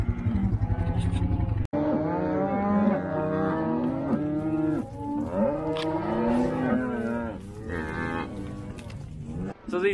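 Calves on a South Dakota ranch, weaned a few days earlier, moo loudly and repeatedly in long drawn-out bawls that overlap one another, close by, with a brief sharp knock partway through.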